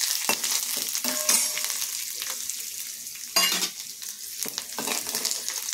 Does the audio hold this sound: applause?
no